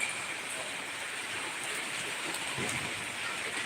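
Heavy rain of big drops falls steadily in a dense, even hiss, with occasional louder drip impacts and no talking, while sunshine is also out.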